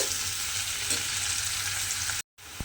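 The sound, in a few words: onion frying in pan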